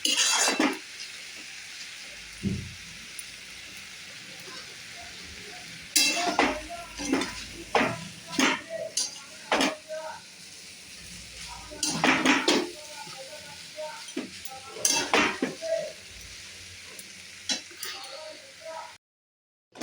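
Food sizzles steadily in a pan while a utensil stirs and scrapes, with repeated sharp clinks of metal against the pan.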